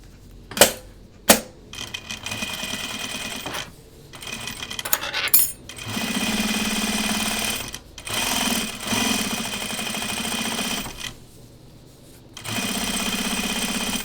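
A sewing machine stitches along the edge seams of a pair of homemade jeans in bursts of steady, chunky mechanical whirring. Short pauses and a couple of sharp clicks come between runs, and no one speaks.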